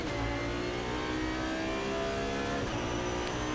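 A DTM race car pulls out of the pit box at the Norisring during qualifying, its engine droning steadily and loudly throughout, with a rising rev toward the end and no talk over it.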